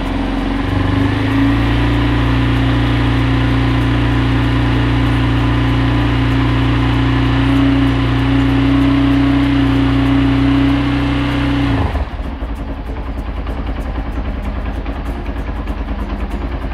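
A motorcycle engine runs loud and close, its pitch rising as it revs, then drops abruptly to a rough, lower idle near the end.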